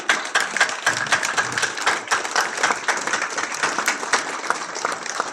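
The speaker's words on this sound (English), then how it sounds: "Let's give Doctor a big round of applause, a standing ovation for his work." A book-launch audience claps in a dense, sustained round of applause at a Chicago university event, many hands rattling evenly for several seconds with no voices over it.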